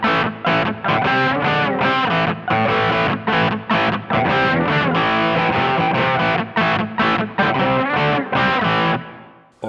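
A heavily distorted Paul Reed Smith S2 Custom electric guitar plays a chugging rhythm of rapid, choppy chords, loud and continuous, with no voices.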